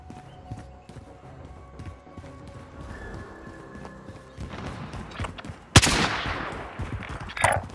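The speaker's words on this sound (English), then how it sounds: "Assault rifle here." Assault rifle fire in Call of Duty: Modern Warfare: scattered muffled shots and distant battle noise build to one sharp, loud crack, followed by more rapid firing and clatter.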